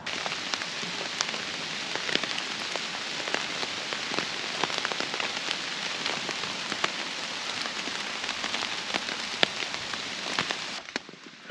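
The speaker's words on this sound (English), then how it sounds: "it's been raining heavy for 6 or 7 hours" Heavy rain drums on the roof of an REI Co-Op Quarter Dome SL 1 tent, a dense close patter with scattered louder drops striking the fabric, continuous and unbroken.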